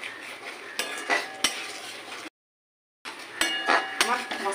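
Jackfruit kofta masala is stirred in a pan, with soft sizzling and scraping broken by sharp metallic knocks of a spoon against the pan, cut by a short gap of silence.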